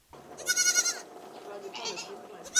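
Goats bleat near a village by the Budongo Forest Reserve, with a few overlapping wavering calls at close range and a fresh bleat starting at the end, over a low background rumble.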